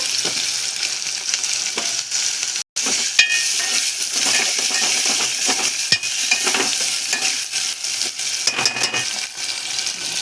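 Potato pieces sizzle steadily in hot oil for a bean and potato curry, with a constant close crackle and occasional light clinks of a spoon against the pan; no one speaks.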